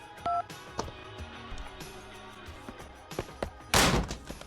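Telephone keypad tones from a phone in GTA Vice City, two short dial beeps followed by thuds and a loud burst of game noise.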